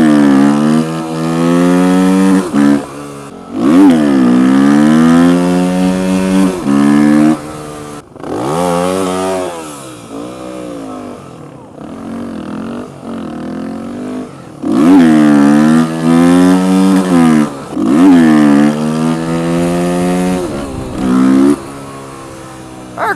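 A light dirt motorcycle engine revs repeatedly at a stunt day in Atlanta, rising and falling whines in several long bursts, loud and close, with short idling gaps between throttle pulls.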